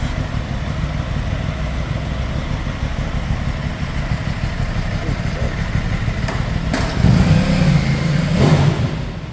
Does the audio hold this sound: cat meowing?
no